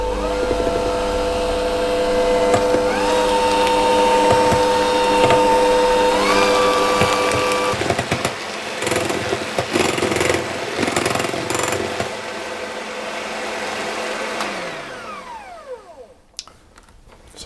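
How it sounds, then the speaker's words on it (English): Electric mixer whisking eggs and sugar for a cake, a loud steady motor whirr with a rattling beater sound that shifts in tone partway through and winds down near the end. "And we'll just whisk these until they're quite frothy or fluffy."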